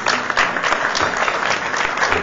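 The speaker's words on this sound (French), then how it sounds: "sous les applaudissements du public" Audience applause at a red-carpet event, a dense steady wash of clapping from a live crowd, loud and continuous for a couple of seconds with no voices above it.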